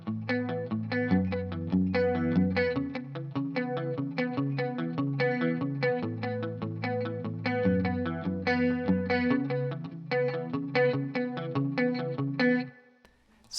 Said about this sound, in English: we go into this awesome part for the verse that uses 3 chords and some palm muting